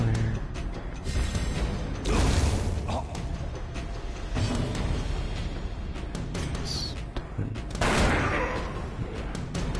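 A Blind Fire volley in Darkest Dungeon crackles as a rapid burst of gunshots under a dense game soundtrack, peaking loud around the middle and end.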